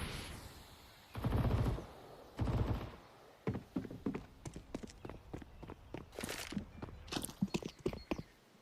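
Counter-Strike match on the Inferno map: two heavy AK rifle bursts ring out, followed by a rapid series of sharp, clicky footsteps and shots, moderately loud in a quiet game soundscape.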